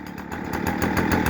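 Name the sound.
gas-powered chainsaw or blower engine running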